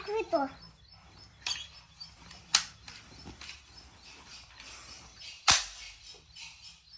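A toy cap gun fires a few sharp, loud cracks spaced apart, with birds chirping faintly and indistinct voices in the background.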